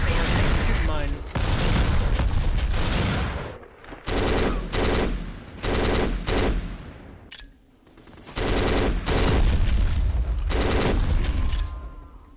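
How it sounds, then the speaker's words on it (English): Mines being shot and detonating in chain reactions in the video game Black, heavy bursts of rapid gunfire and booming blasts in several loud clusters separated by short lulls. "So you can just shoot all the mines from here that you can clear out the minefield, because mines will set other mines off."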